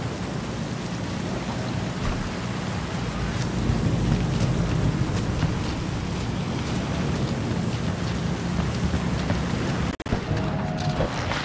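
Steady rain in Cyberpunk 2077, a dense, even hiss with low rumble running unbroken throughout, briefly dropping out near the end before resuming.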